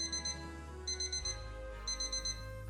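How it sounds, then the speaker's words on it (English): An alarm clock beeps in three short bursts of rapid high-pitched pulses, steady and fairly clear, over a soft continuous background hum. "Yes, it was the alarm clock."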